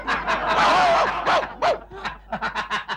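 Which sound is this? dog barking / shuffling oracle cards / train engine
dog barking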